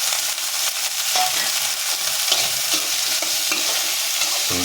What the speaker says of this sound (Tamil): சுண்டைக்காவும் தக்காளியும் சேர்த்து இப்போ அதை வதக்குறோம்